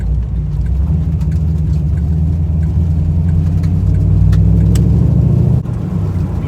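A 383 stroker street car holds on a two-step rev limiter set around 2,000 RPM, its engine a loud, steady close-up drone, then launches into a harder surge with a brief drop near the end.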